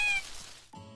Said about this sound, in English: I then heard some meows and got very excited